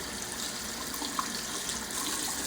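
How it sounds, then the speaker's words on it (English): A bathroom sink tap runs steadily during shaving, a continuous close hiss of water splashing into the basin at an even level, with no talking. "you got the water running, leave your razor right under the water"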